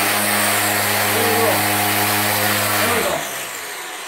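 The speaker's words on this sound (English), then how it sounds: "This is the, I guess, wireless Gypsy trimmer. We'll see if it works." A cordless string trimmer re-strung with tennis string runs with a steady, loud motor whine that holds for about three seconds, then winds down and cuts off, with a brief spoken remark over it.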